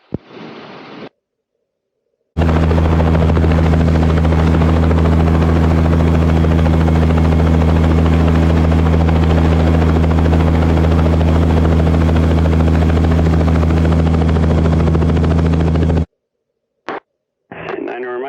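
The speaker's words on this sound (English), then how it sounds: "I'd like to back up and do a departure auto here on runway 2" A helicopter runs up on runway 2 ahead of a departure autorotation, its loud steady rotor and turbine roar filling most of the clip, with brief radio-like bursts before and after.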